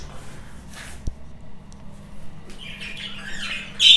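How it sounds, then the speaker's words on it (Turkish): Budgerigars in a breeding aviary give scattered faint chirps, then a cluster of sharper, louder squawks near the end, close by with no talking. "Bu taraftakilerin hepsi damızlık kuşlarımız."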